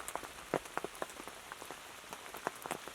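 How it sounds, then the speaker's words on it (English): Rain falls at a bushcraft camp, patters softly and steadily on a nearby surface, with irregular louder drops tapping close by, quiet and without talk. "It started raining."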